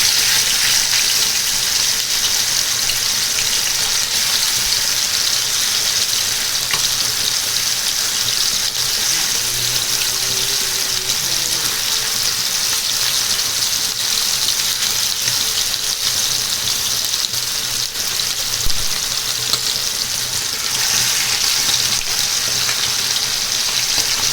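Marinated chicken pieces for chicken 65 fry in hot oil, giving a steady, dense sizzle that holds close and loud for the whole stretch, with no one talking.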